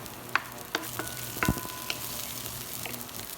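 Aromatics for a Thai chicken salad frying in a pan, a soft steady sizzle broken by a few light stirring scrapes and clicks, fairly quiet and close.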